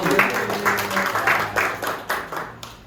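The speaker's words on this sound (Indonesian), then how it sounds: "tepuk tangan untuk Wahyu." Brief classroom applause during a micro-teaching session, a quick patter of several hands clapping together for a few seconds, close and fairly loud.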